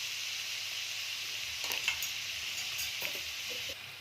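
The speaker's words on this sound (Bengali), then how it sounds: "এবার আমি দিয়ে দেব যে পেঁয়াজটা আমি কেটে রেখেছিলাম সেটা। আমি এর মধ্যে সামান্য নুন দিয়ে দেবো যাতে পেঁয়াজটা তাড়াতাড়ি মজে যায়।" Chopped onion fries with a pinch of salt in a pan for an egg curry, giving a soft steady sizzle with a few light stirring scrapes near the end.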